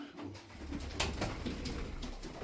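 Soft, low cooing from a tumbler pigeon repeats in short phrases over a steady background murmur, close by and moderately loud.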